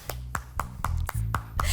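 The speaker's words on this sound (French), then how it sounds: "On applaudit les mariés." A small audience claps for newlyweds during an improv comedy show: a few sharp, evenly spaced claps that ring out distinctly over a low hum and a thin background bed of sound.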